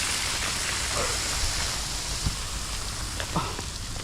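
Heavy rain falling at night, a dense steady hiss of drops on surfaces with a few soft splashes, continuous and fairly close with no talking.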